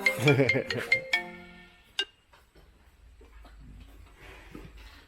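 A mobile phone ringtone plays a short bright melodic burst of repeating tones at the start, then cuts off, leaving faint room noise and a few scattered clicks in a cattle barn.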